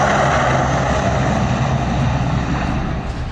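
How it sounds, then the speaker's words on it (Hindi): Indian Army C-130J Hercules transport aircraft on the Purvanchal Expressway airstrip, its engines giving a steady, loud, close droning roar with no gaps throughout. "C-130J हरकुलिस विमान है जो इस वक्त एक्सप्रेसवे पर उड़ान भरने की तैयारी कर रहा है"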